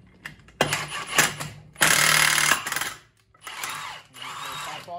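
Metallic clanking and ratcheting bursts as a clutch puller is threaded in and forces a snowmobile clutch off its shaft, in several loud, close bursts with short pauses between.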